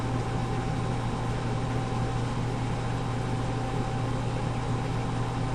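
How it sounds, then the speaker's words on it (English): An agitator motor in a mixing tank starts and runs with a steady, even electric hum and broadband whir, constant and close with no breaks. "Once the tank is full, we hear the agitator start"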